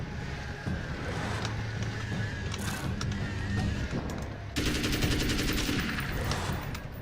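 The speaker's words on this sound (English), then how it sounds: "Forget it, I'll just use the assault rifle." Assault rifle gunfire in Alan Wake's American Nightmare, a steady loud stream of rapid mechanical shots with clattering, growing denser and harsher toward the end, alone without talk.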